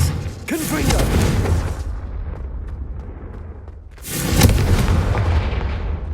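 A Confringo blasting spell goes off in Hogwarts Legacy with a deep booming blast that rumbles and fades, then a second loud explosion follows after a quieter stretch.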